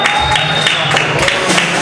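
At a live rock band show, a crowd gives loud, dense applause with some cheering, a continuous wash of clapping that holds steady through the short moment.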